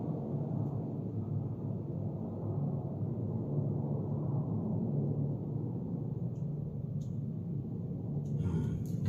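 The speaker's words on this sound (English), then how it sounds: "This is the sound of an airplane." An airplane passes overhead, a steady low broadband roar holding evenly throughout, distant and moderately faint, with a few faint clicks near the end.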